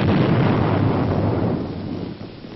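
A 2,000-pound bomb dropped from 10,000 feet explodes in a deep, rumbling roar that stays loud and sustained before slowly fading, with no voices.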